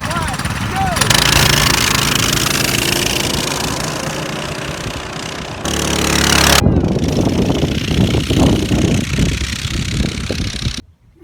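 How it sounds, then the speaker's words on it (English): Mini bike engine fitted with a torque converter, revving steadily and loud for several seconds with a brief pause, then resuming under load as the bike accelerates, with faint voices in the background. "This new torquey mini bike will definitely pop a wheelie if you don't lean forward."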